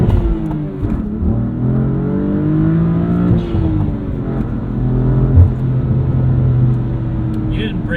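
A 2016 BMW M3 accelerating hard in first gear as the tires break traction, a loud, deep engine drone rising in pitch from inside the cabin, with people talking over it.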